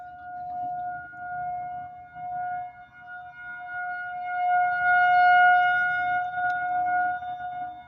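A Federal Signal 2001 SRNB new-generation tornado siren sounds a test in Olathe, Kansas, its steady wailing tone rising and fading as it rotates.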